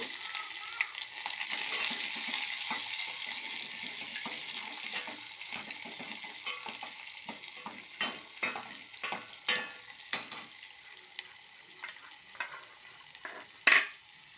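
Curry leaves and onion frying in hot oil in a pan, a loud steady sizzle that settles into crackling and sharp spatter pops and stirring clicks toward the end.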